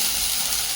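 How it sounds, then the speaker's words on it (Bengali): Very small soybean chunks fry in hot oil, giving a steady, loud, close sizzle and hiss with no break. "এবার সয়াবিনগুলো ভেজে নিচ্ছি, একদম ছোটো ছোটো সয়াবিন"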